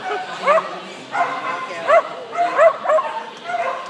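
Happy dog at an open agility competition giving several short, sharp barks and yips in an uneven rhythm, close by, with outdoor crowd noise and occasional talk underneath.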